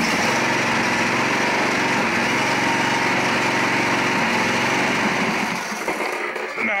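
A Briggs & Stratton V-twin small engine runs steadily at close range with a little throttle, giving a continuous buzzing drone that eases slightly toward the end.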